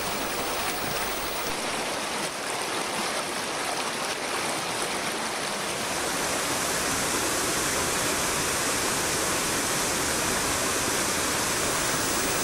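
A mountain stream in Cantabria, near the Saja river, flows through rocky pools with a continuous, close, full rushing roar of water and no other sounds.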